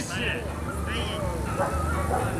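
Dogs yip and bark in short bursts while handlers run an obedience demonstration at a show in Bulgaria, the calls sitting under continuous talk and crowd noise.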